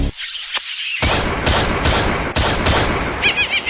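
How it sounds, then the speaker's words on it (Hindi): Cartoon gunshots crack out in a rapid series of sharp, loud bursts, with a brief squeal near the end and no talking. "गोली की आवाज है"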